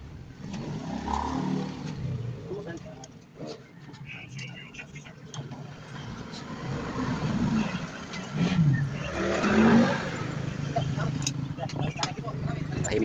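A Honda XRM 125 FI motorcycle engine runs after a clutch lining repair, idling with a low, steady hum and a brief rev midway, under people talking close by.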